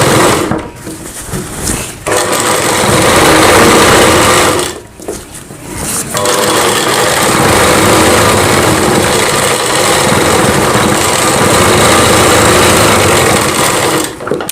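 A sewing machine stitches a blouse seam for a Rajputi poshak kanchali, whirring loudly and close in long continuous runs, with short pauses near two and five seconds.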